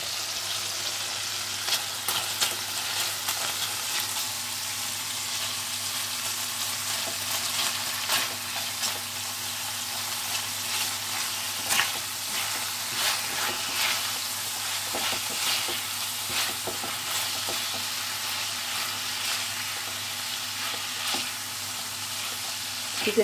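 Chicken frying in a pan for a Keralan chicken curry sizzles steadily and close up, with scattered scrapes and knocks of stirring and no talk.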